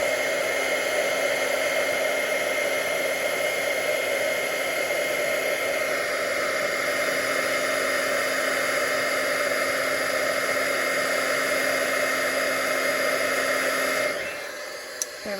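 A heat embossing tool blows steadily and loudly for about fourteen seconds while setting embossing powder on a poinsettia card, a constant whirring hum that cuts off near the end.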